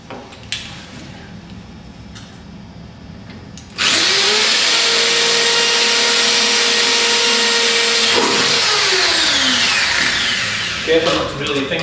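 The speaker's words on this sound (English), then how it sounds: "Careful not to drill your fingers while you're doing this." A power drill boring holes into stone starts abruptly and runs loud and steady, its pitch shifting as the bit bites, after a few seconds of quieter background and voices.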